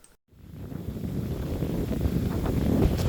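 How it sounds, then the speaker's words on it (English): Wind roars across a microphone while cycling through open Dutch countryside in the Netherlands, a steady low buffeting rumble that starts after a brief silent gap and grows slightly stronger toward the end. "The wind"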